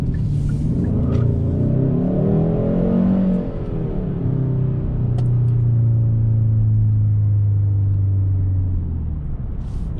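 A 2021 Hyundai Sonata N Line in normal drive mode accelerating from inside the cabin, its engine note rising steadily through the gears with a brief dip at a shift, loud and close with a smooth droning hum.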